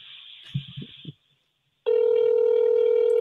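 A telephone call is placed and goes from a faint line tone to a loud, steady ringback tone, with a brief murmur of voice before it starts.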